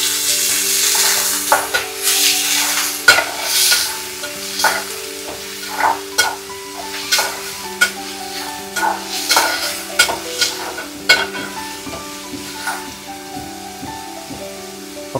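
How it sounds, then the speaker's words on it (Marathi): Palak (spinach) leaves fry and sizzle in a pan over onion and garlic, with steady sizzling and repeated stirring scrapes at a close, moderate level and no talk. "लसूण आणि कांद्यावरच शिजवत आहे"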